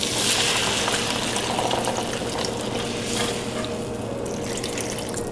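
Water and salt go into a sizzling pan of fried onion, tomato and cashew masala for butter chicken, making a steady, close hiss and bubbling with stirring throughout and no voices.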